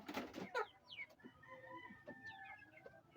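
Rhode Island chickens clucking close by in a farmyard, with a few sharp calls at the start followed by softer, scattered clucks and chirps.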